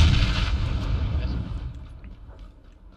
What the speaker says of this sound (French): là, c'est une frag ça!